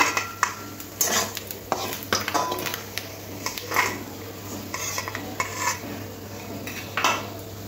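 A metal utensil scrapes and clinks against a pan while lifting fried mola (mourala) fish from hot oil, with repeated clattering strokes and a faint sizzle underneath.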